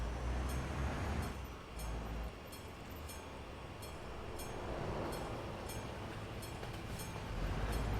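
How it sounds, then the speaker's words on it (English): A train passing in the Euro Truck Simulator 2 video game, a steady rolling rumble with regular rhythmic clacks repeating every half second or so, moderately loud and continuous, with no voices. "I hear train."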